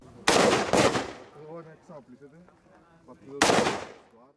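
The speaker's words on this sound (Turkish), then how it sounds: "savunma bakanı ve milletvekillerine otomatik silahlarla atış talimi yaptırdılar" Automatic weapons fire in sharp, loud bursts at a military unit's shooting practice: two quick blasts close together, a pause with a narrator talking, then another burst.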